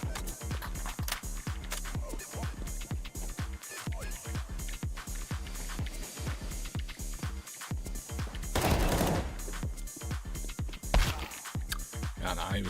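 Rapid gunfire from a shooter video game, a steady stream of sharp shots running the whole way with short pauses and a denser burst near the end, with the player's voice talking over it now and then.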